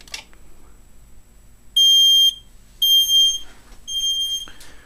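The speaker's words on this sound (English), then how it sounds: "I'm going to activate the smoke detector" A smoke detector under test on a fire alarm system sends out three loud, piercing electronic beep bursts about a second apart after a quiet start, with a short rattling sound at the very end.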